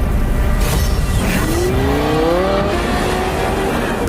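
A Lamborghini Huracan STO engine roars loudly and continuously, its pitch climbing in a smooth progressive rise through the middle before holding a steady, powerful note.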